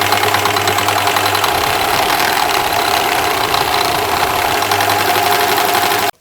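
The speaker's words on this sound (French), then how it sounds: "Je vais maintenant surjeter la couture que je viens de faire pour avoir un fini propre." An overlocker serges a seam on a child's rain cape with a loud, steady, close mechanical whir that runs without a break for several seconds and then cuts off abruptly.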